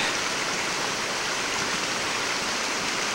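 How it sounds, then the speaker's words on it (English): Bandy Creek Falls, a 45-foot combined single drop and cascade on Bandy Creek, roars as a steady, dense wash of falling water and flowing creek, loud and unbroken throughout with no voices. "Bandy Creek Falls is a 45 foot waterfall. It's a combination single drop and cascade here on Bandy Creek."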